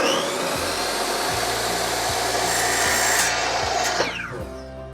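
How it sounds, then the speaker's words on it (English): A power saw cuts wooden trim at a 45-degree angle, a loud continuous whine with a rhythmic ticking underneath that spins down as the blade stops near the end. "we're now just going to angle cut them to 45 degrees so they all fit together"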